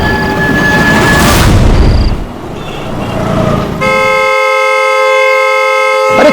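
A loud vehicle horn blares nearby, first in bursts over traffic noise, then held as one long unbroken tone to the end.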